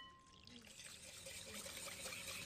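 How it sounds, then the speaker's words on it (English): Water poured onto brown sugar and vanilla in a cooking setting, a soft steady splashing trickle at low volume that continues throughout. "I take more brown sugar with a little vanilla and some water."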